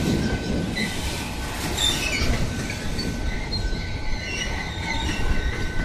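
A freight train rolls by close at hand at Embu-Guaçu, São Paulo, with a tail locomotive approaching, a heavy continuous rumble with high wheel squeals and metallic screeches rising and falling.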